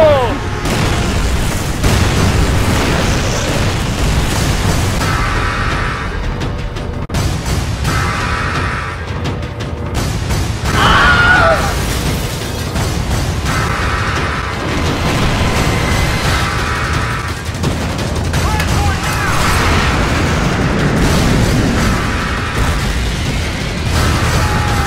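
Grenade explosions and gunfire in Call of Duty roll through a loud, dense battle mix of deep booms, bursts and mechanical clatter that stays intense for the whole stretch.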